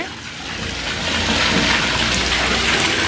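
Rainwater from a house terrace, collected for storage, runs down through a drainpipe with a steady gushing splash that swells slightly louder after the first second and then holds.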